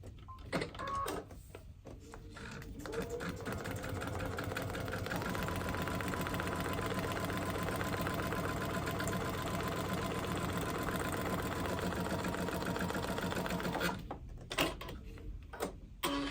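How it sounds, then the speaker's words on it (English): A home sewing machine runs a long, steady stitching burst while sewing a foundation paper pieced quilt block, close and even, starting after a few handling sounds and stopping with a few clicks at the end. "now I'm just going to sew this"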